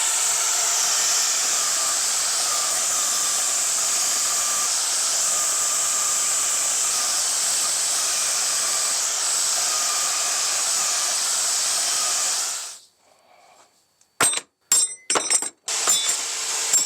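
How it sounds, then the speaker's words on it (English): A bandsaw cuts knife blanks out of a steel sheet, a loud steady high whine and hiss running for about twelve seconds, then stopping abruptly, followed by a few sharp clanks and knocks of handling. "So I'm going to take it over to the bandsaw and we're going to cut these out."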